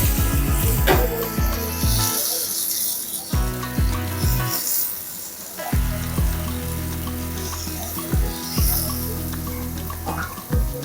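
Tomatoes added to a hot pan of Alibag-style val bean amti with ripe raw mango, giving loud bursts of hissing sizzle that rise and fade in repeated waves beneath clattering and stirring.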